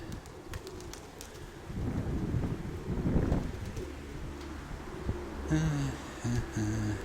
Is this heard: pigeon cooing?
yes